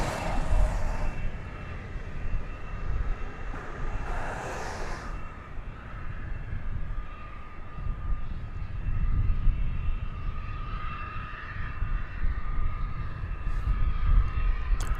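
An airliner rolling out on the runway at DFW after touchdown, a steady broad engine roar and rumble throughout with a faint whine, no talk.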